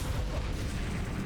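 A Confringo spell blast in the video game Hogwarts Legacy, a short, deep, booming explosive rumble that fills the brief moment, loud and close with no talk.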